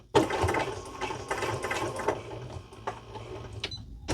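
A sewing machine runs steadily with a rhythmic, close mechanical chatter as it stitches binding onto a fabric blanket, continuing with slight pauses throughout.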